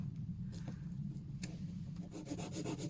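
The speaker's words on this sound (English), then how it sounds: "I've wrapped around a sanding paper, much more smoother grits" Soft, quiet rubbing and scraping of sandpaper on wood, with a few light strokes close by.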